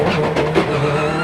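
Travis Pastrana's 862bhp Subaru Huckster accelerating hard in third gear, a loud close engine roar with a brief rising surge and tire noise.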